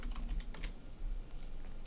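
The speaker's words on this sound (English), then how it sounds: "that's just when I press the enter key on my keyboard" Quiet, rapid clicking of a computer keyboard as keys are typed and the enter key is pressed, close and steady throughout.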